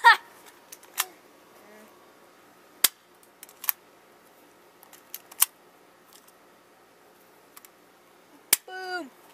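A P.901 6mm airsoft pistol fires at a tree outdoors, giving several sharp, isolated snaps spaced a second or more apart over a quiet background, with a brief voice near the end.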